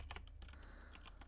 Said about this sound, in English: So I guess I just like typing it out.